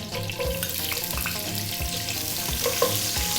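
Onion tipped into a pan with green cardamom pods and curry leaves for a vegan coconut-milk vegetable curry, frying in a steady, dense sizzle close by with a low hum and faint stirring underneath; no voices.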